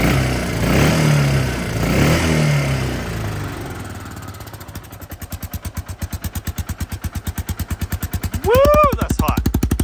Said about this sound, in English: About this exhaust here, it's a little on the loud side, I will admit